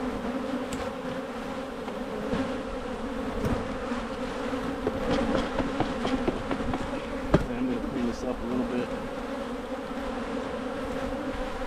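Honey bees buzz in a steady, dense drone around open hives during early spring colony management, close and continuous with a few sharper passes near the listener.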